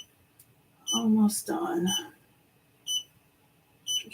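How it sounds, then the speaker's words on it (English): An embroidery machine beeps several times in sharp, high, evenly repeated bursts, with a person speaking briefly over the first of them. "Stop beeping at me."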